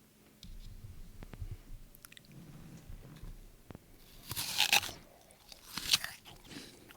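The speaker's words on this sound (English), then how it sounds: "I'm going to combine 4 apple bites into one sound." Crunchy apples bitten right up close to the microphone, with a few soft crunching and chewing sounds, the loudest two sharp crisp bites coming near the end.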